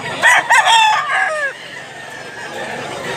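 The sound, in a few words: roosters crowing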